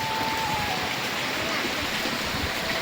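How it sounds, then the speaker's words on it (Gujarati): Light drizzle falls on a farm field under cloudy skies, making a steady, even hiss that holds unchanged throughout with no voices. "ઝીણો ઝીણો વરસાદ આવે છે"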